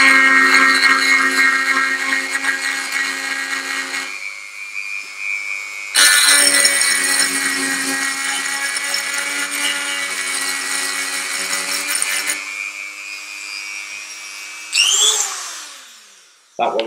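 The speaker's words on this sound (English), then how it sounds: "I'm literally going to grind an area inside of it" A Dremel rotary tool grinds inside a small part, a loud, steady high-pitched whine that cuts out briefly, resumes for several seconds, then winds down near the end.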